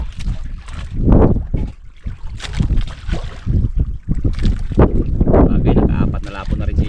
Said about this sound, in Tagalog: Andyan ang amihan.